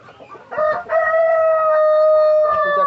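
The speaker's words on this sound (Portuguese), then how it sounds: "Olha aí, os perus." Turkeys and other poultry feeding nearby give a loud, close crowing call that holds steady for about two seconds, with softer clucks just before it and no talking.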